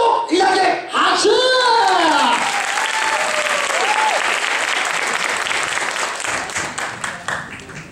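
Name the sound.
audience applause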